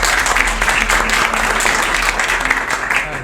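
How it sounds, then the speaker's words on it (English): Audience applause at a sustainability conference in Riga, a steady sustained clapping from a seated crowd that fills the room evenly without breaks. "Let's give up applause."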